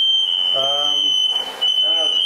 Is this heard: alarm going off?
yes